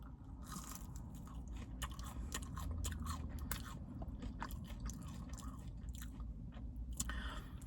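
Biting and chewing on a Wendy's Fuego meal with Takis-style seasoning, close crunchy bites and repeated moist chewing in a steady run, no talking.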